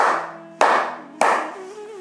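Three hard, sharp claps spaced about half a second apart, each ringing briefly with a roomy decay, as a speaker claps his hands during a talk.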